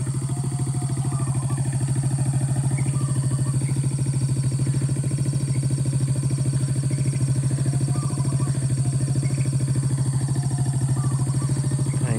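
Steady motorcycle engine noise along a road between Binuang and Kayu Duo on the Solok–Pessel route, a continuous droning rumble with no clear gaps between passing bikes, loud and unbroken throughout with no talking.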